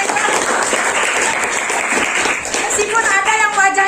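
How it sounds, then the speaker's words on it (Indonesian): A crowd claps steadily for several seconds, dense and loud, with a few voices mixed in toward the end. "tepuk tangan buat kalian"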